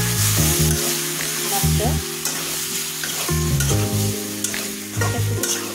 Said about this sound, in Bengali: এখন আমি ভালোভাবে তেলে এভাবে নাড়াচাড়া করে নিই